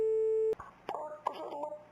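A steady electronic telephone tone in the video game My Winter Car holds for about half a second and then cuts off, followed by clicks and soft handling noises.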